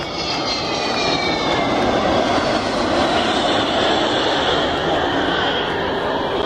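An Avro Vulcan bomber's jet engines roar loudly during a flyby, a dense, sustained thunder with a rising whine that stays strong throughout before cutting off abruptly.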